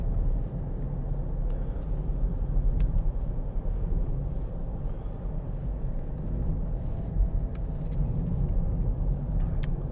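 A 2012 Land Rover Freelander 2 TD4 S diesel five-door on a road test drive, heard from inside as a steady, low engine and road rumble with no talk.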